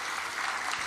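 A brief burst of audience applause at a talk on ethics and success, a dense wash of clapping hands, steady and fairly loud for under a second.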